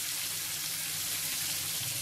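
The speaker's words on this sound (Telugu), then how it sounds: "1 నిమిషం ఫ్రై చేసుకోవాలి. చివరగా కొద్దిగా కరివేపాకు, 1/2 టీ స్పూన్ ఇంగువ పొడి వేసుకోవాలి." Curry leaves and asafoetida fry in hot oil for katte pongali, giving a steady, close, continuous sizzle and crackle with no voices.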